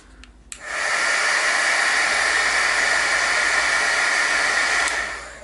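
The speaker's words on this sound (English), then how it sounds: "Let's hit it with the heat gun for a second and dry it really quick." A heat gun runs steadily for about five seconds, drying a still-wet handmade Halloween artist trading card; a loud, even airy roar starts abruptly after a brief quiet moment and fades at the end.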